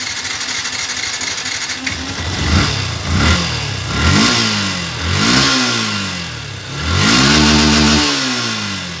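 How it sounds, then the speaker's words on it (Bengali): A Yamaha FZS V2 motorcycle engine starts and idles, then revs up loudly several times in rising and falling surges, each rev climbing in pitch before dropping back, close to the bike with no one speaking. "বন্ধুরা এবার আপনাদেরকে গাড়ি স্টার্ট করে দেখায়।"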